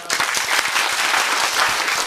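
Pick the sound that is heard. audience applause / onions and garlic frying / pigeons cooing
audience applause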